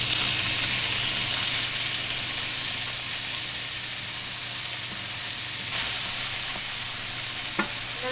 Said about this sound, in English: Then I'm going to add a little bit of chopped tomato.